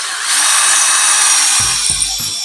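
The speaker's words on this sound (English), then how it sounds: "I'm going to drill my hole a little bit to the right of that circle" A power drill whirs steadily into a ceiling wood stud, its motor loud and close, with a few short bursts of the bit catching near the end.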